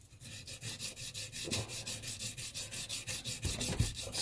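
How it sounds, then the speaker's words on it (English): Rubbing compound is buffed by hand onto a tin box guitar body, making a rapid, even back-and-forth scrubbing rhythm of light strokes. It is close up and continuous, with occasional heavier pushes. "Sometimes I use a rubbing compound as well."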